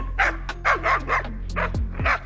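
Several stray dogs bark in a quick run of sharp, loud, close-by barks with whimpering yips, on a mountain hike in the Albanian Alps between Theth and Valbona.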